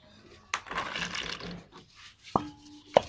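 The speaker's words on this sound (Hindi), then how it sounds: "और इसको भी अच्छी तरह कूट लेंगे।" Almonds pounded for thandai: a few hard, distinct knocks spaced apart, with softer grinding and rubbing between them, close and fairly quiet.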